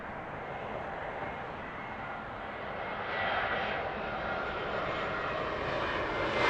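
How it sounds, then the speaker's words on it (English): Lufthansa airliner landing on runway 27 left at Heathrow, a steady distant roar of engines that swells slightly and holds throughout, with no talk. "Safely down for the Lufthansa there"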